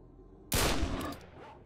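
A gun fires in a video game with a single loud, sharp burst that trails off into a fading rumble.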